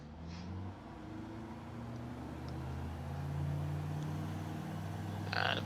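A small aircraft engine runs at full throttle with the brakes held, a steady low droning rumble rising slightly in loudness, with faint ticks and a short burst of hiss near the end.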